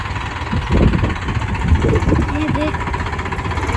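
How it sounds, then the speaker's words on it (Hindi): A tractor engine idles steadily with a low, knocking chug throughout, while people talk loudly over it close by. "ट्रैक्टर चालू ट्रैक्टर चालू है।"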